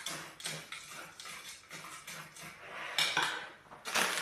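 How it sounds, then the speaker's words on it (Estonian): A spoon scrapes and clinks as it stirs crushed cookies and a couple of spoonfuls of cocoa together in a bowl, with close, uneven rhythmic strokes and no talking. "Segan selle segamini."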